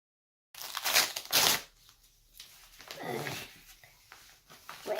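An envelope from a prize mailing is torn open close by in a few quick rustling rips of paper, then lighter crinkling and handling, with soft breathy sounds in between.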